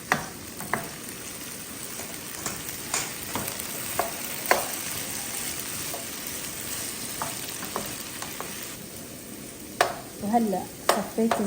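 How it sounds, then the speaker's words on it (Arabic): Potatoes sizzle steadily in hot oil in a pan, broken by occasional scraping knocks of a spatula turning them, close up with no talk. "وهلأ بدي أقلي البطاطس، بس بدي هيك كل شوي حركها شوية علشان تتقلى من كل الجهات"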